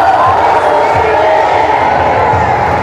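Church congregation shouting together at a worship service, a loud, massed crowd roar with cheering voices and rhythmic thumps underneath.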